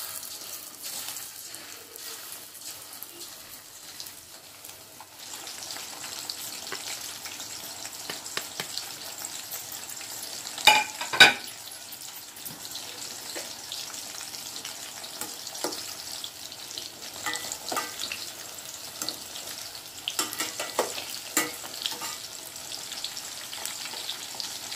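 Pieces of chicken 65 sizzle in hot oil over a high flame, a continuous crackling fry with occasional louder pops and spatters as more pieces drop in, with no talk.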